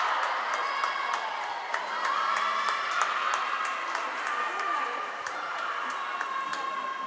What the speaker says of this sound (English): the Audubon Collingswood swimmer has her teammates on that side of the pool cheering her on